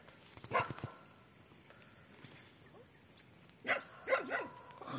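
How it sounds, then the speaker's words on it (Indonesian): Several sharp dog barks ring out at moderate distance, one early and a quick cluster later, over a faint steady high whine. "anjingnya menggonggong"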